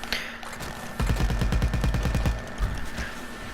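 A fast, continuous volley of shots from a Plants vs. Zombies: Battle for Neighborville character, loud, close and evenly spaced, starting after a short pause and ending in a few scattered shots.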